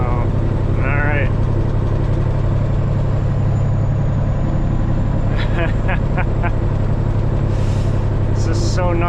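Peterbilt truck engine with fuel-pressure trouble, heard from inside the cab as a loud, steady low drone that runs unbroken while someone talks over it.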